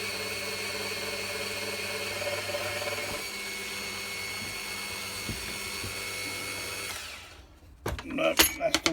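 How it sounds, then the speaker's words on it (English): A power drill fitted with a small countersink bit whines steadily for several seconds, then winds down, followed by a few clicks and handling knocks. "I've got my smallest diameter countersink bit in here"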